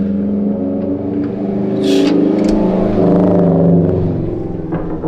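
Engine of a Subaru idling and revving at close range with a slightly uneven, odd tone, a steady low rumble that swells in the middle and holds.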